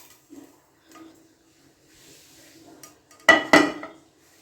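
Roasted food being moved onto a plate, soft scraping followed by two sharp clinks of utensil against dishware near the end, otherwise quiet.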